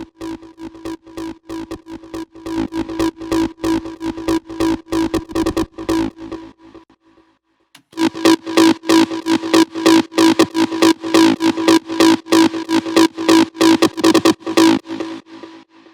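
A heavily distorted acid synth preset for a big room techno drop pulses in fast, crisp repeated stabs, cutting out briefly after about six seconds before slamming back in louder and denser, with no voices.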